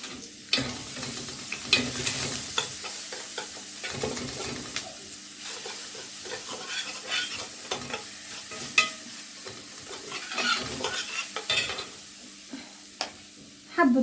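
Garlic frying in a little oil in a pan, a soft continuous sizzle broken by repeated scraping and stirring clicks from a utensil, close and fairly quiet, no talking.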